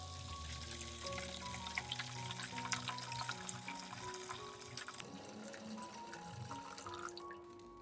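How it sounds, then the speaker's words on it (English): Warm water pours steadily into a bowl, a continuous splashing stream with small drips, close and fairly loud, ending with a quieter trickle. "we will pour in 1 liter of warm water"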